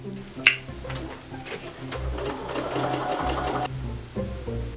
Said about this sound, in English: I'm gonna go run these through the sewing machine.